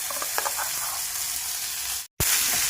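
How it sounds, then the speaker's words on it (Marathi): Onion-tomato gravy for matar paneer sautés in butter with cumin, giving a steady, close hiss of frying with a few soft stirring taps. The sizzle breaks off in a brief silent gap, then resumes. "ही जी तयार केलेली ग्रेव्ही आहे ती छान परतून घ्यायची।"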